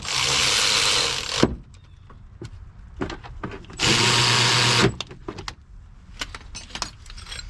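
Impact or power tool snugging rear brake caliper bolts on a 2005 Cadillac STS: two loud buzzing bursts about a second long each, separated and followed by metallic clinks and tool handling.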